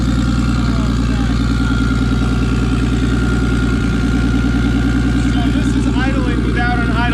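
A BMW turbo engine in a kart idles on a partly open throttle body with no idle air control valve, giving a loud, steady, throbbing rumble that runs throughout, with a voice speaking over it.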